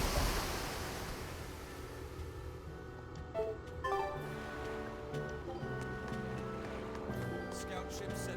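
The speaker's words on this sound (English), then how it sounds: "Scout ship setting sail." Ocean ambience in the Tales of Berseria video game as a scout ship sets sail, with steady surf and wind washing across the whole stretch and faint tonal game sounds layered over it.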